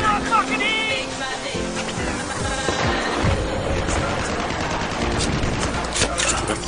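Rapid video game gunfire crackles in dense bursts throughout, mixed with music and in-game effects, while a voice talks over the action.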